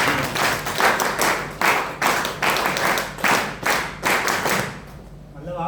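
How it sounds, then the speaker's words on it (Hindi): A CBRN trainer-course class claps in unison, giving loud, rhythmic bursts roughly every half second for several beats before the claps die away. "आप लोग तालियां बजाएं"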